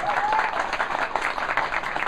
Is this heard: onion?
no